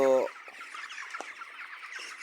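Chickens cluck softly and steadily, with one louder squawk at the start, close by and without talking.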